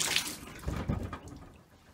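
Hot and cold water running from a gravity-feed shower, a close splashing rush with a few louder surges that slowly tapers off, heard alone without speech.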